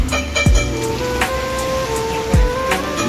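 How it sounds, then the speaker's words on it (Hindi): Dense, continuous rain noise with a couple of sharp low drops or thuds standing out, steady and fairly loud throughout. "बारिश घनी हो रही है।"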